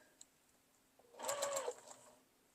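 A sewing machine stitching a coffee cup mug rug runs in one short, quiet burst of fast needle whirring, framed by near silence.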